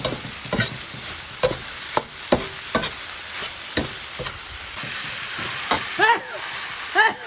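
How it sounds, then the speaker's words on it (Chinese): Blanched beef being stir-fried with chilies in a wok, a spatula scraping and knocking the pan at irregular intervals over a steady sizzle, close up, with a few faint clinks near the end. "把这个备好水的肉"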